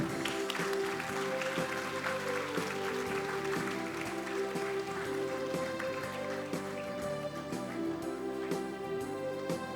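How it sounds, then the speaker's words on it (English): Steady applause from a school audience at an ICSE prize distribution ceremony, dense and continuous for the whole stretch, with a sustained musical tone running beneath the clapping. "Can we have a huge round of applause, please?"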